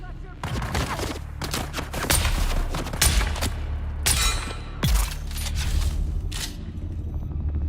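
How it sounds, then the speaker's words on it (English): Gunfire in Dune Awakening: repeated sharp shots in irregular bursts, some close and loud, others spaced apart, over a low background rumble, with a voice briefly audible. "Okay, who's shooting at me?"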